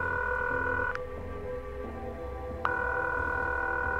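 A telephone in the horror video game The Coma 2 gives steady electronic tones that cut off briefly and then resume over a low background hum.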